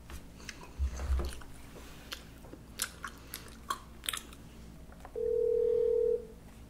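Telephone ringing indoors before being answered: one sustained steady electronic tone near the end, preceded by faint scattered taps and soft chewing-like clicks.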